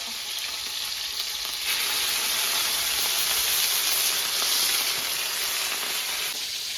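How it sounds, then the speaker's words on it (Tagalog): Fish fries in hot oil in a garage, giving a loud, dense, continuous hiss and crackle that swells midway and stays close and steady throughout. No one talks. "Piniprito na niya yung isda doon."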